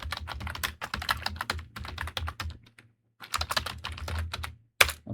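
Rapid bursts of typing on a computer keyboard while writing text into a file, dense close clicking broken by a short pause, then another burst ending in a sharper keystroke.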